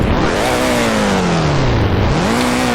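A Roblox racing game's simulated race car, styled in classic Lotus F1 livery at Hockenheimring, revs loudly and continuously, its engine pitch sweeping down and back up across nearly three seconds with no talk over it.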